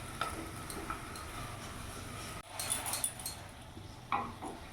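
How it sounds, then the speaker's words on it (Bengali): Chilli and cumin powder are stirred in a pan for tomato soup: soft scraping and a low sizzle, with a few light clicks of the spoon and a short break midway. "ভালো করে নাড়াচাড়া করে নেব।"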